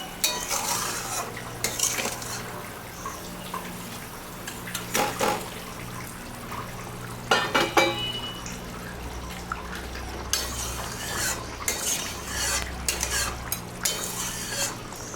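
Snakehead fish going into a pot of boiling curry and being stirred, with metal clinks of utensil on pot, scraping stirs and bubbling liquid, close by and no talking.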